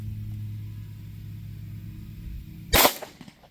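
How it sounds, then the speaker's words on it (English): A single sharp 9mm pistol shot firing a Sig Sauer 124 grain V-Crown round at a range, a loud crack over a steady low hum, followed by a brief decaying echo. "Now I'm going to do 5 rounds of that Sig"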